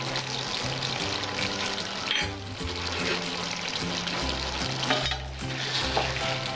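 Pumpkin curry sizzles and hisses in a pan as it is stirred while sugar and chopped coriander go in, a loud, close frying crackle with scraping strokes over background music, and no talking.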